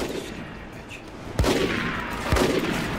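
Video game shootout gunfire: sustained rattling shots with two sharp louder blasts about a second apart, dense and close.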